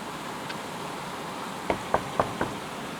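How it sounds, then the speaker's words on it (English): Four sharp knocks on a door, evenly spaced and close by, after a moment of quiet room tone with a faint earlier tap. "Mrs. Scrooge's thoughts were interrupted by a knock at the door."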